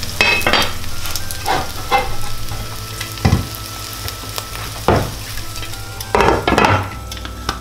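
An oat omelet fries gently over low heat in a covered pan, a steady soft sizzle punctuated by several louder crackling bursts and brief clatters of cookware.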